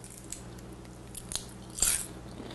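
A few crisp bites into crunchy cheesy kale chips, quiet chewing crunches building to one louder snap near the end, close and alone.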